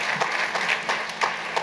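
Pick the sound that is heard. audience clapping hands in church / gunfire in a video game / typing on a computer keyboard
audience clapping hands in church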